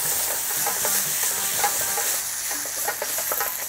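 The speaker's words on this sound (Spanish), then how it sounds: "Echas un poquito más de aceite de oliva y remueves." Tomato paste and a splash of olive oil are stirred in a hot pan for a polenta pie, with a constant close sizzle and soft rhythmic spoon scrapes throughout, no voices.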